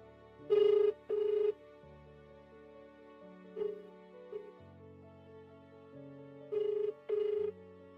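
A telephone rings in short paired bursts, repeating with long pauses between, over a soft low musical backing; nobody picks up.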